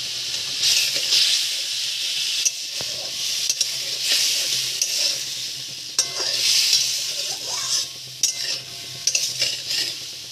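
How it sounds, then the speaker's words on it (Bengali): Spice paste that had been soaking goes into a wok of frying chitol fish curry, with a steady loud sizzle and hiss throughout and repeated scraping stirs and spoon clinks against the pan, no talking. "এবারে ভিজিয়ে রাখা যে মশলাটা ছিল সেটা দেব"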